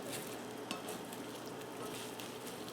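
An omelette fries steadily in a pan, giving a continuous soft sizzle with faint occasional clinks of a utensil, no voices.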